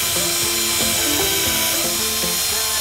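A cordless drill pre-drills holes for a homemade bedside lamp, its high whine loud and close, rising and dropping in short repeated bursts.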